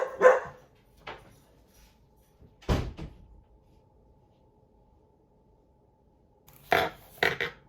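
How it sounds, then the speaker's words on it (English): A dog indoors gives a few sharp separate barks, loud and close, with long quiet gaps between them and a quick double bark near the end. "I think it's interesting that my dog just interrupted this"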